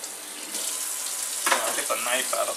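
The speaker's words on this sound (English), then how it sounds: "move it in my sink, and then rinse it with some cold water" Cold water runs from a kitchen sink tap over a turkey being rinsed, a steady close rush of water that grows louder and more splashy partway through as the bird is moved under the stream.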